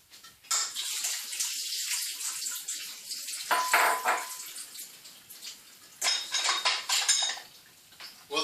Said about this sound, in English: strain the orange juice off of the cranberries